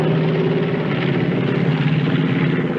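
Aircraft flying over a lagoon, a steady, droning engine rumble that holds at an even level throughout, with no voices.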